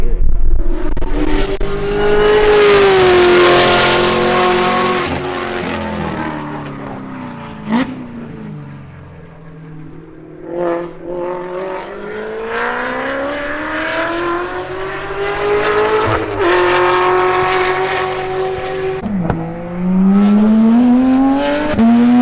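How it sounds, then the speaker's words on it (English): A Dundon Motorsports flat-six time attack race car at a track event, engine screaming loudly as it accelerates through repeated gear shifts, dropping on lifts and climbing again as it passes and pulls away, with no talk. "What a Dundon Motorsports flat six sounds like."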